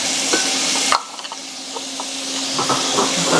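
Diced celery cooks in bacon grease in a pot for beer cheese soup, a loud steady hiss and sizzle that drops off suddenly, followed by light stirring and scraping clicks.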